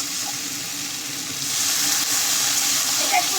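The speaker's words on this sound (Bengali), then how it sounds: "এখন আমি জল দিয়ে দেবো।" Water poured into a pan of sizzling fried masala for a moural fish curry with green tomato and potato, a steady hiss and sizzle that swells louder partway through as the water hits the hot pan.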